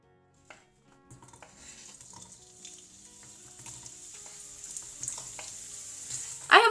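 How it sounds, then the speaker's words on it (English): Chopped vegetables dropping into hot olive oil in a non-stick pan over high heat, the sizzle building from quiet clinks into a growing crackle, with a sharp burst of frying at the end. "In a non-stick pan over high heat, add a few tablespoons olive oil. Then we want to add all those chopped veggies."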